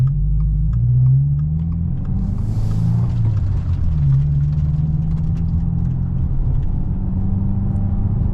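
A Subaru WRX VB drives a mountain road, its engine a loud, steady low rumble and drone with slight rises and falls in pitch and constant road noise.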